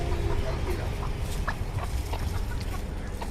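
Hens clucking inside a chicken coop where laying hens nest in the corners, with soft intermittent clucks and chirps over a steady low rumble, some faint talk in the background.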